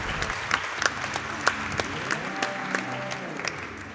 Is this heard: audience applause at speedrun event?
yes